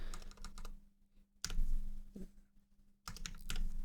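Bursts of quick typing on a computer keyboard, close and fairly quiet, with short pauses between clusters of key presses.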